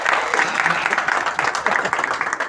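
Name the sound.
applause, clapping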